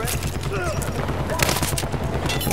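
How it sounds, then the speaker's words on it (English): Heavy gunfire in the Battlefield 4 campaign, with dense overlapping bursts and booms packed tightly together at steady high loudness throughout, and a voice faintly mixed in. "That's some serious shooting."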